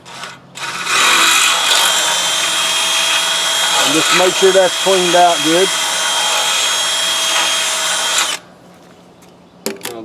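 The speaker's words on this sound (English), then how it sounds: "I'm going to run my drill down through it." A power drill fitted with a 3/8 bit bores through a weld, a loud continuous high whir lasting about eight seconds with some stuttering mid-cut, then stopping; someone speaks briefly.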